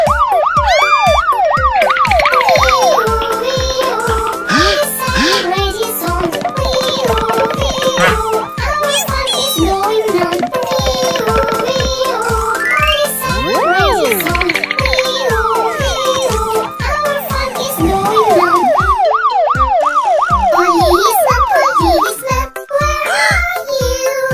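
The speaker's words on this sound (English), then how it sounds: "it's a siren, that's what it is" A toy button plays a loud electronic emergency siren that wails and yelps continuously for over twenty seconds, mixed with bright toy music and a voice.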